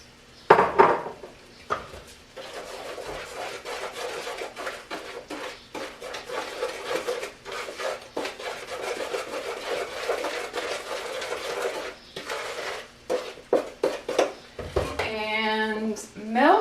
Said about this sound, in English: Okay, so I'm mixing this all together.